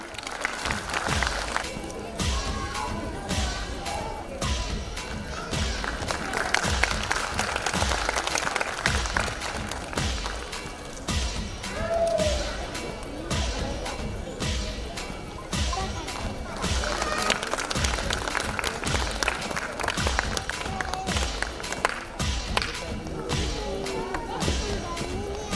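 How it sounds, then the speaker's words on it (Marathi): Audience at a school annual function claps hard and continuously, dense rattling applause with a few shouts and cheers that swells and eases over about twenty-five seconds, with some voices mixed in. "टाळ्यांचा आवाज येत नाहीये. जोरजोरात टाळ्या वाजवा."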